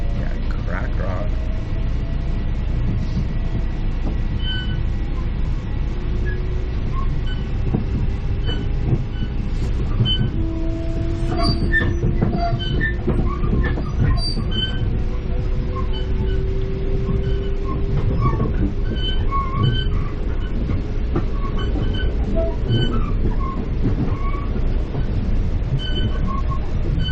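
Metro-North commuter train running from Marble Hill in the Bronx toward Philipse Manor, a steady rumble of wheels on track with squealing tones rising and falling, while passengers talk nearby throughout the ride.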